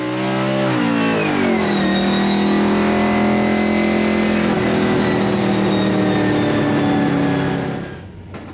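A Ford Mustang RTR drift car engine held at full throttle through third and fourth gear, a loud harmonic roar that climbs, shifts and sustains close by before dropping away at the end, with no voices.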